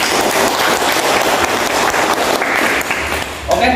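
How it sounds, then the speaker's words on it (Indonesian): Loud, dense applause from an audience filling a hall throughout, a steady roar of clapping that continues without a break. "Berilah aplaus yang meriah untuk beliau ya"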